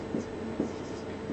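Pen strokes scratch across paper up close, two short scribbling bursts over a faint steady background hum.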